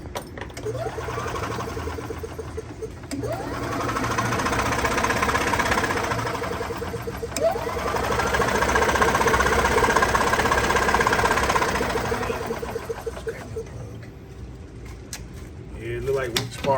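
A gas 1994-2005 EZGO golf cart engine cranks over in repeated surging bursts, each lasting a few seconds with a rhythmic mechanical chatter, and it struggles from weak spark and a wet plug without catching.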